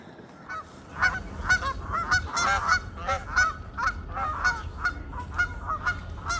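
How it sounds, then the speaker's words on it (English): A flock of Canada geese honks repeatedly in loud, overlapping calls outdoors on a cold winter day near frozen water. "Canada geese are back."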